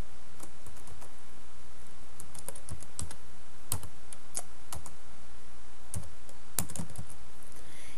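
Keys clatter on a computer keyboard as a name is typed in, irregular close clicks and taps spread over several seconds above a faint steady hiss, with no talking.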